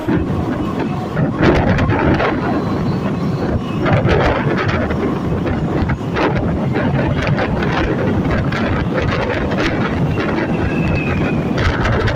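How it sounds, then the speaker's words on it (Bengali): Passenger train pulling into Mankar station on the Barddhaman to Asansol line, a loud continuous rumble of wheels and carriages with rattling and wind buffeting throughout, heard from on board. "আর আমাদের ট্রেনটি এখন মানকরে এসে পৌঁছেছে"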